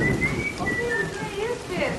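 Steady rain falling, a dense even hiss throughout the short stretch with a faint high tonal line drifting above it.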